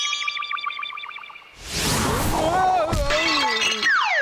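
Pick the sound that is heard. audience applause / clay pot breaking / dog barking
clay pot breaking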